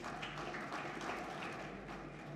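An audience at a formal institutional ceremony in India gives steady, continuous applause, dense and somewhat distant, with no one speaking over it.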